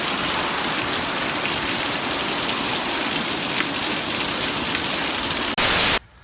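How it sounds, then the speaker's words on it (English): Steady, dense rain pours down over a garden in a constant hiss. It ends with a brief, louder burst of noise followed by silence. "I just wish the rain would slow down for a few days so I can start working"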